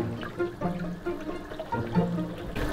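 Water splashing and sloshing with gurgling bursts from someone snorkeling, close by, continuing through the stretch without any talk.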